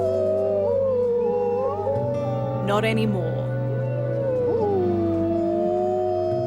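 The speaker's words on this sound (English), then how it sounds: "When you hear that deep guttural howl of a wolf come up out of a dark night" A grey wolf howls in long, wavering tones against a steady background, joined briefly by a yipping burst midway, while a person speaks over it.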